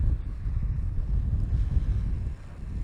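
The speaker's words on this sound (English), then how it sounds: "It is quite windy today" Strong wind buffeting the microphone as a DJI Mini 2 drone takes off, a low rumbling roar that gusts steadily throughout, with no voices.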